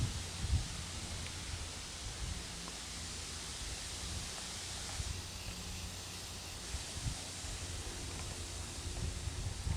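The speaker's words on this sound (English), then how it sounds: "I don't know if you can hear the wind, but it's so peaceful." A warm summer breeze moving through a perennial cottage garden and a maple tree, a steady broad rush of wind and rustling leaves holding an even level throughout.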